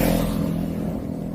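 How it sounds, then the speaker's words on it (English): A tuk-tuk's small engine drones loud and close while driving, a buzzing, rattly motor note with a steady pulsing beat that eases slightly toward the end. "Definitely tuk-tuk."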